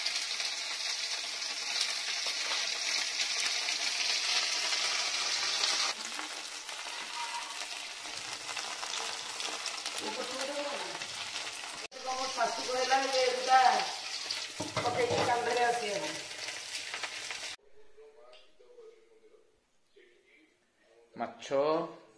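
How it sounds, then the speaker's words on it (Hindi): Marinated fish frying in a pan gives a steady, close sizzle with bursts of crackling, while people talk over it. The sizzle drops away near the end. "मामा माछ भाजुची देखंतु माछ को मैरिनेट कर रखाइतला भजा होची"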